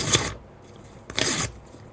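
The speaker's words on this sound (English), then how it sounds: "There is a sound effect of tearing paper that I'm going to use for today's tutorial video" Paper tearing sound effect, two sharp broadband rips: a short one at the start and a longer, louder tear about a second later, with quiet pauses around them.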